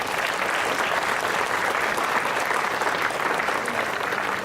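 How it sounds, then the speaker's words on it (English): An audience at an alumni spring reunion claps steadily for singers, a dense, even round of applause that holds at one level throughout. "Let's give them another round of applause."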